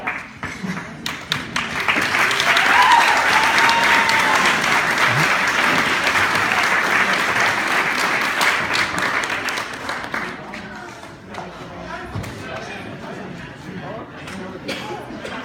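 Wedding reception guests break into sustained applause after a father's toast, a dense roomful of clapping that swells, holds for several seconds and then thins out, with voices and cheers mixed in.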